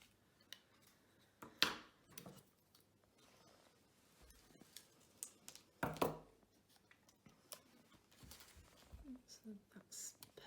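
Scissors trim a small paper tree for a handmade card, giving a few short, sharp snips among soft rustling and quiet handling at close range.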